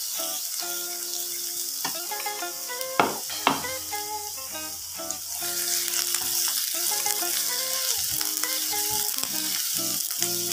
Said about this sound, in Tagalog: Papula-pulahin po natin ng bawang.